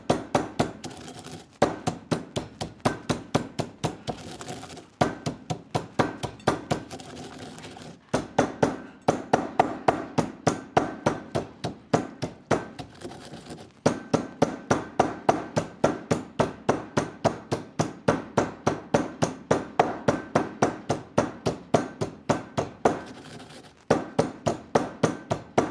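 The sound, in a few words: grinding black pepper and wild fennel in a mortar and pestle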